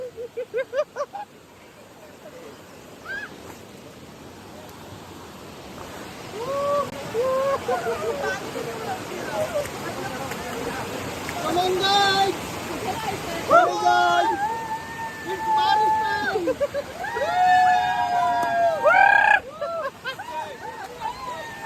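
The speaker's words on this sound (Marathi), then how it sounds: "हा पाण्याचा पहिला झरा आहे." Steady rush of flowing water from a stream near Devkund waterfall in Tamhini Ghat, Maharashtra, with people talking and calling out over it throughout.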